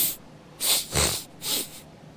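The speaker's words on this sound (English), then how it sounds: "I want to sniff this." Three quick breathy sniffs, close and alone, as a person smells a bowl of homemade taco seasoning.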